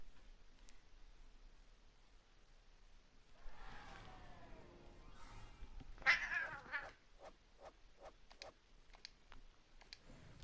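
Pet cats meowing and caterwauling faintly at a distance, with a few brief louder yowls and some light clicking, no talk.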